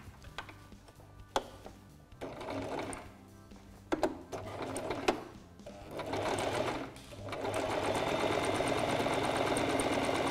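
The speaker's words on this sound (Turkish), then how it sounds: "Şimdi ikinci pilimi dikeceğim." A Singer sewing machine stitches a pleat into fabric during a garment-embellishment lesson, running in short bursts broken by ticking pauses before settling into a longer steady whir, close and clear with no talk.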